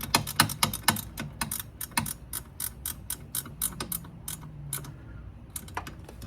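A hand ratchet or wrench tightens the mounting bolts of a Porsche 924S windshield wiper motor, producing quick, close, crisp clicks in irregular bursts with short pauses between runs.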